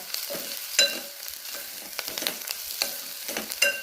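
Coriander powder, goda masala and turmeric stir-fried in hot oil, a steady sizzle broken by repeated scraping strokes of a spoon against the pan, close and fairly loud.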